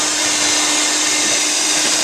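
An electric mixer whirs steadily through holiday cookie dough, a loud constant motor drone with no pauses or talk.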